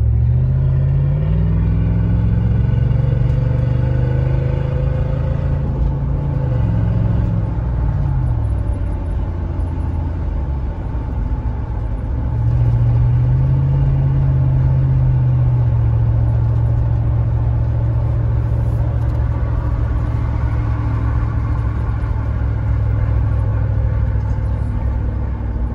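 Toyota fourth-generation 4Runner with a V8 and muffler delete, driving with the rear window half down: a loud, steady, deep exhaust drone runs throughout, rising and falling as the engine revs up and settles through the gears.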